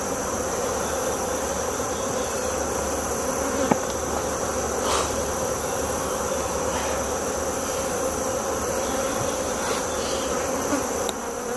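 Honey bees at a hive in fall fill the air with a dense, continuous buzzing. The steady drone runs throughout, with occasional louder passes as individual bees fly close.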